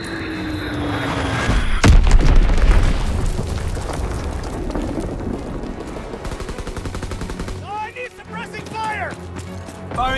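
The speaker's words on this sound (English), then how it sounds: "Azon bomb mission underway" Azon bomb explosions in Call of Duty WWII, a loud boom followed by dense rumbling blasts and rapid gunfire, with game radio voices talking over the later part.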